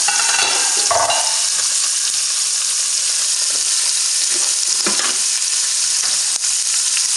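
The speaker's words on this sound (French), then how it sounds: "je le laisse mijoter pendant quelques minutes" Tilapia cooking in a partly covered pan makes a loud, continuous hiss and crackle of hot oil, close and unbroken, with a few soft knocks of utensils and no speech.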